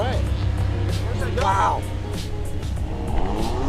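A rear-wheel-drive Audi R8 sports car at an autocross event pulls away with a loud engine rise and a brief revving surge, heard from inside the cabin while occupants talk and exclaim over it.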